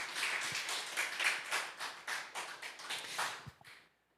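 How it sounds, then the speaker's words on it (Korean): A church congregation claps in rhythm, giving a round of applause to God during a mission report service, with steady evenly spaced claps over a few seconds before stopping abruptly. "여러분, 하나님께 우리 영광의 박수 한번 올렸으면 좋겠습니다."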